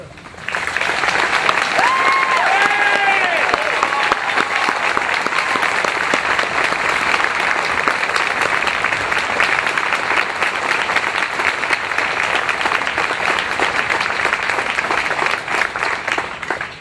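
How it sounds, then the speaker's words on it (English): Sustained applause from a large crowd at a 9/11 tribute in Twin Falls, Idaho, honoring military service personnel, loud and dense, holding steady for over fifteen seconds before tapering slightly at the end. "I'd like to acknowledge by a round of applause our military service personnel"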